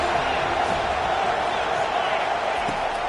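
Steady roar of a football stadium crowd at a Florida State versus Boise State game, a dense continuous wash of cheering and noise with no single voice standing out.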